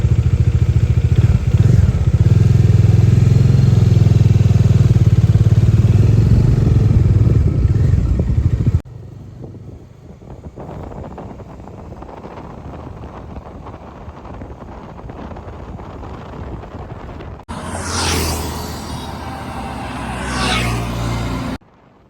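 A motorcycle cruises a highway on a long-distance ride from Mumbai toward Madhya Pradesh: a loud, close engine roar mixed with heavy wind buffeting, then a quieter steady drone, then renewed gusts of wind rush.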